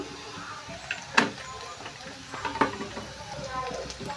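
Broad beans and onions fry with chili powder and turmeric in a pan, a soft sizzle under a couple of sharp clinks of a spoon against the pan.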